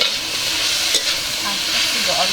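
Cabbage curry paste with a little sugar frying in a pan and being stirred, a continuous close sizzle with occasional scraping movements.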